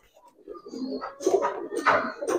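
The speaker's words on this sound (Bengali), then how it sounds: "প্যাকেজে এই সুন্দর কবুতর পাচ্ছেন, দুইটা কবুতরই একদম মানে ভালো লাইনের কবুতর" Soft Giribaz pigeon cooing close by, a few throaty warbling calls rising and falling over quiet background noise.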